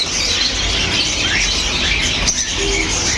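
Lovebirds chirp busily over a steady hiss in a bird shop, a dense chatter of high twittering calls that never lets up.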